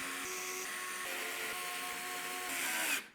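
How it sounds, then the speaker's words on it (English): Short radiator screws are driven in to fix a radiator bracket onto an AIO cooler during a Lian Li SUP-01 PC build: a steady, fairly quiet motorized whir runs for about three seconds, then cuts off abruptly. "we'll secure it into place with the short radiator screws"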